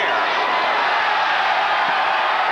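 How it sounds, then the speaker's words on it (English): A basketball arena crowd at a 1994 Vanderbilt vs. Penn State college game, a steady roar of cheering and murmuring voices filling the space with no breaks over a couple of seconds. "The crowd wants him to get one in the air."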